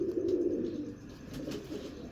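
Pigeon of a prized breed cooing close by, a low throaty coo repeated softly over a brief stretch, no voices.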